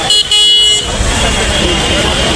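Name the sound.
street traffic with car horns in Mumbai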